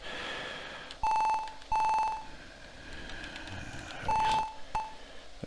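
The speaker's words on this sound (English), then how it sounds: "that phone ringing is getting on my fucking nerves" A telephone rings in the Commodore 64 game Zzzz as a run of shrill electronic beeps. Short tonal bursts come in uneven clusters and stand out alone against a faint background.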